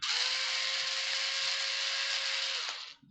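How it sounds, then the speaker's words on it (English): An old cordless power screwdriver whirs in one steady, close, high-pitched electric drone for nearly three seconds while backing out screws on a wireless microphone's battery cap, then spins down and stops. "So let's take my old power screwdriver and take the cap off here."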